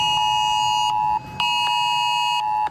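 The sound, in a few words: mobile phone emergency alert alarm during air raid drill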